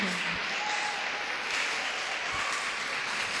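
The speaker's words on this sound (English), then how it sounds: "So, please clap." Steady applause from an audience at a quiz competition group stage, continuous and moderately loud throughout with no pauses.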